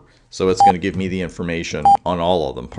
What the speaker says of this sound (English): Pardon the beeping there.